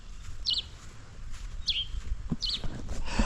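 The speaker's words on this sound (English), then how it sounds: "You heard that bird? They're on top of this house." A bird perched on top of a house gives three short, high chirping calls spaced about a second apart, fairly near, over low outdoor background noise.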